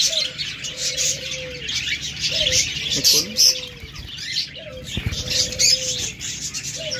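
Diamond doves and other pet birds in a crowded aviary give repeated short coos and chirps with occasional wing flaps, all under a steady wash of background twittering while someone speaks briefly.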